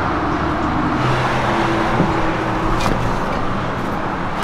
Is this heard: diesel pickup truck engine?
yes